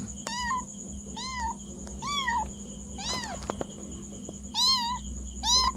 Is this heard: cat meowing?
yes